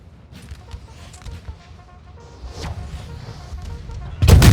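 Artillery fire in a Napoleonic battle in NTW3, with scattered distant cannon thumps and light musketry building toward a heavier close blast at the end.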